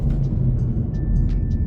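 A VW Golf 7 with a 1.4 TSI turbo engine accelerating hard in third gear on a test drive after a turbo replacement, a loud, steady low engine rumble heard from inside the car.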